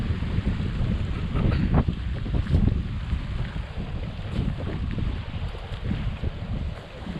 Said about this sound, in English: It's a little bit breezy, but man, it's just unbelievably beautiful.